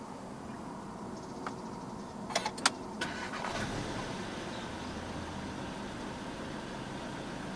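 A few faint clicks, then the push-button start of a 2022 Volkswagen Arteon 2.0 TSI: the engine cranks and catches, settling into a low steady idle.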